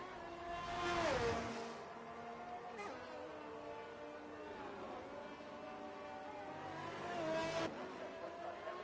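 Formula 1 race cars in an F1 racing game leaving the pits at Imola on their out lap. Several whining engines rev and pass, with two louder surges near the start and end and a quieter running drone between.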